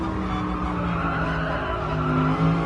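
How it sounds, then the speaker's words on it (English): Tyres of a Gr.1 race car in Gran Turismo Sport squeal steadily over a loud engine drone, a continuous screech heard from close by without speech. "That's why I can hear the tyres squealing there."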